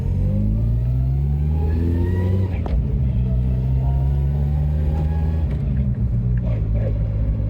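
Inside a Ford Mustang SVO with a G-Force T5 transmission, the engine pulls hard through the gears with rising pitch and a gear whine, broken by two quick shifts, loud and close throughout.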